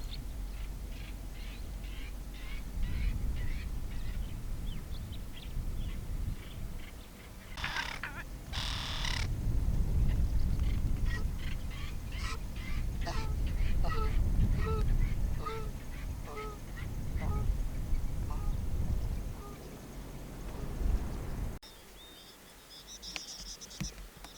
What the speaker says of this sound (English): Bird life is also great around the waterholes.